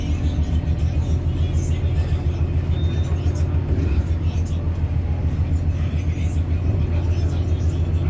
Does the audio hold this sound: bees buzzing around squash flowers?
no